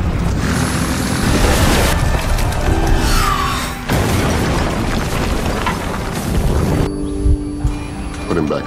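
A missile blast in a sniper war film booms and roars up close, followed by rumbling debris and mechanical clatter, with a sudden cut to quieter tones near the end.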